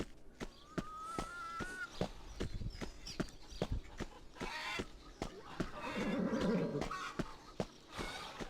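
A horse whinnies at the stables in the Alexandra Ledermann video game, a rising neigh over steady clip-clop hoofbeats, with more snorting and stamping toward the end.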